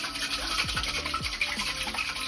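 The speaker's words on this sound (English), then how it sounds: "we're going to dry shake this cocktail, which means shaking it up without ice so that we can fully emulsify the egg" Eggnog cocktail being dry shaken without ice in a cocktail shaker, a rapid, continuous sloshing rattle close by, even and unbroken with no talk.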